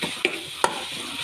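Onions and tomatoes sizzling in a frying pan as they are stirred, a steady close hiss with two quick scraping spoon strokes cutting through.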